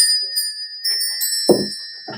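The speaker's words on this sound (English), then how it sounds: "Let's call in Spirit with a little bit of wind chime time" Wind chimes ring out in a call-in moment before a card pull, with sustained metallic tones shimmering high and a few softer strikes and knocks, heard alone and fairly close.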